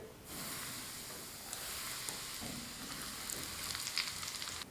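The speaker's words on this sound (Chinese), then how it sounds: "浇入刚烧好的热油，激发出香味儿" Freshly heated hot oil is poured over ground cumin, chili powder, white sesame and salt in a bowl, giving a faint, steady close sizzle and hiss that lasts several seconds.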